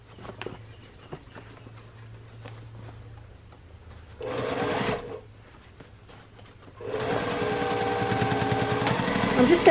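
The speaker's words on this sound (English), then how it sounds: "And then I'm just going to sew again about half an inch." Sewing machine stitching a seam on a fabric bucket bag, starting with light taps and handling noises, then a short run of close motor whir and a longer sustained run toward the end.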